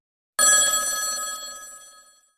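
A single bell-like telephone ring sounds suddenly and loudly, then rings out and fades gradually over about two seconds.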